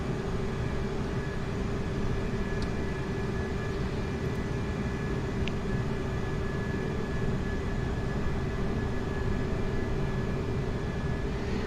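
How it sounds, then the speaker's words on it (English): An airliner taking off in the flight simulator Microsoft Flight Simulator 2020, an A320neo at London Gatwick: a steady, loud engine roar with a constant whine, unbroken for the whole stretch and no voices. "Let's pop outside and have a look at Scott's, no doubt, excellent takeoff."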